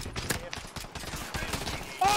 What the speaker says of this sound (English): Oh, they're shooting me in the fucking back!